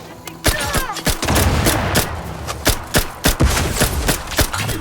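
Rapid bursts of gunfire crack through a firefight in The Outer Worlds 2, loud and close, with sharp repeated shots and short volleys over a rumbling, busy battle din.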